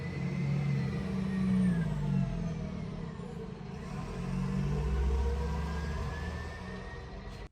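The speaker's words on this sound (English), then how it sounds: "I apologise if you can hear the bin men outside." A garbage truck collecting bins outside, its engine rumbling and revving through a wall, rising and falling in waves at moderate distance with no talk.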